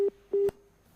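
A telephone busy tone sounds after a caller's line drops during a live call-in show, two short beeps at an even pitch, close and clear, then quiet.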